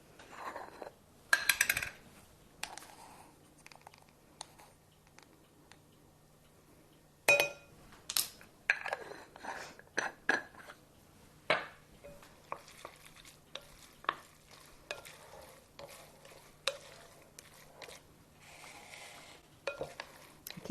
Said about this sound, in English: So we're going to give this a stir.